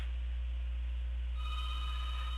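A phone rings steadily during a test call placed to oneself with progressive dialing software, a continuous electronic ring tone heard through a steady hum, brightening partway through.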